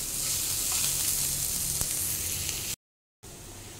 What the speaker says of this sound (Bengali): পেঁয়াজ আর রসুন কুচিটা একটু আমি ভেজে নেব